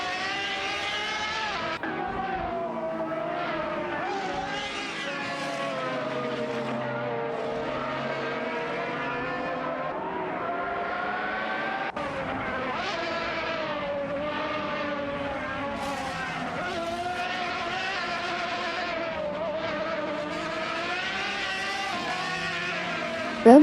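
Race cars roar through a video game race, high revving engines rising and falling with gear shifts and passing cars in a continuous loud drone, with no talking.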